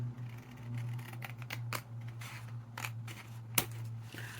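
Scissors snipping the corner off a sheet of 12 x 12 inch craft paper, a few crisp close cuts and clicks over a steady low electrical hum in a quiet room.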